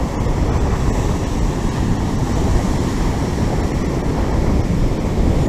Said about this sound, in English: We've got, like I say, 6 foot bloody waves coming in.